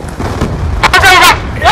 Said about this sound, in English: I just threw a frag and it backfired